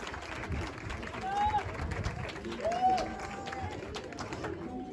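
An awards ceremony crowd after a 5K race applauds the second-place finisher, a steady wash of scattered clapping and crowd noise under a loud announcer's voice, moderately distant.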